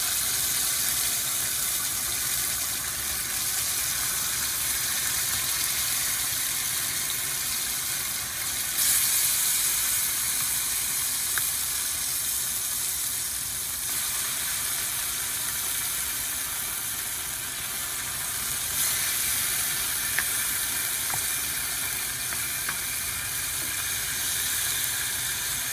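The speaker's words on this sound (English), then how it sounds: "Now we're gonna add the sauce to the tortilla that was pre-fried. Gonna put it in the pan" Sauce-coated, pre-fried tortilla hits a pan of hot, smoking oil and sends up a steady, loud sizzle and hiss that runs unbroken, with faint spattering crackles scattered throughout.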